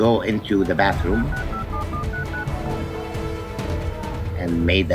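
Telephone keypad dialing tones sound as a quick series of short, evenly spaced beeps, set against a continuous bed of voices and background sound.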